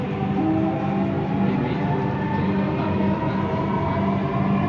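A Dhaka metro rail train bound for Motijheel near Mirpur 11 runs with a steady, close interior rumble and a faint humming whine, even and unbroken throughout.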